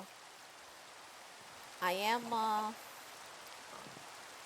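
Steady, soft hiss of rain falling in a modded Minecraft world, continuous throughout, with a voice speaking briefly in the middle.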